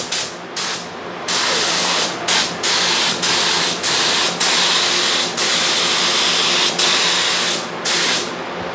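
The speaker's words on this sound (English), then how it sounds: "That's the air, that's the blower." A paint sprayer's blower pushes a steady, loud rush of air while a 1979 Chevy K10 truck bed is painted, with the hiss cutting out briefly several times in a broken rhythm.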